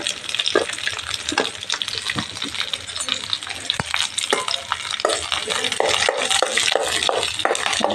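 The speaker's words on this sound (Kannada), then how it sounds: "ಈ ಥರ ಚೆನ್ನಾಗಿ ಫ್ರೈ ಆಗಬೇಕು ಅವರೆಕಾಳು" Field beans (avarekalu) crackle and sizzle in a hot pan, a dense continuous frying hiss broken by sharp stirring clicks and scrapes, close and fairly loud throughout.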